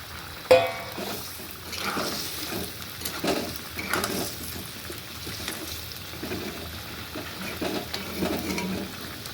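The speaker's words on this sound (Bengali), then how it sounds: "আলু আর শালগম সিদ্ধ হয়ে গেছে, এখন বড়াগুলো ঢেলে দিচ্ছি।" Lentil fritters frying in a turnip and potato curry: soft, steady bubbling and sizzling, with occasional stirring clinks and scrapes from a pan, fairly quiet and without talk.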